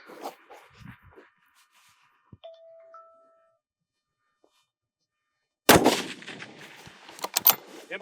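Sharp rifle shot cracking out toward a 500-yard target, a loud sudden burst with a long rolling echo, preceded by quiet outdoor stretches, a couple of faint electronic beeps and scattered shuffling noises.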